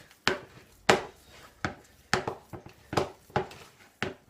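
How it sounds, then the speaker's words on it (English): Sausages squashed by hand into sausage meat in a big bowl for Scotch eggs, heard as a steady run of soft, wet slapping squelches about twice a second, close and with no talk. "squash all of these sausages into a nice big bowl of sausage meat"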